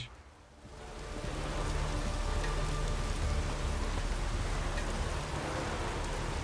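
Steady, dense rain falls in The Witcher 3: Wild Hunt on Skellige, swelling in after a quiet first second into an even, continuous hiss with no talk.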